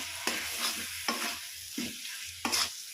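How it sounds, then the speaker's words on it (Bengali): Chili powder and Kashmiri chili spice mix being stirred in a pan while making a small-potato dum: four or five distinct scraping strokes of a spatula over a soft sizzle, close and fairly quiet. "আবারও আমি মিশিয়ে নেব নাড়াচাড়া দিয়ে।"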